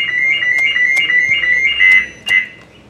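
A Maruti Suzuki Wagon R alarm sounds during a remote reset, giving a steady electronic siren tone with several sharp chirps over about three seconds. The tone is loud and close, and no one speaks.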